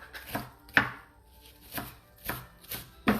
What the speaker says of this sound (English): I'm just gonna chop off the rest of this onion for my salsa